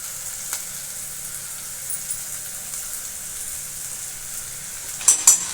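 Malabar spinach (bachala kura) leaves frying in a pan, a steady soft sizzle throughout with a couple of brief clatters near the end.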